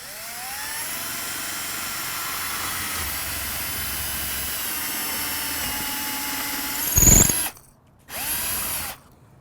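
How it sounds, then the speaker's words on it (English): A portable drill press bores a hole through an RV door, a steady, loud motor whine with grinding for about seven seconds, then a brief burst, a pause and a shorter final run. "It's like a portable drill press. So what you do is you get the drill bit where you want it."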